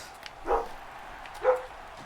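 A dog gives two separate barks about a second apart, moderately loud against a quiet background.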